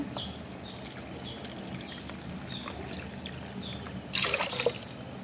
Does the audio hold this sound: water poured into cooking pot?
yes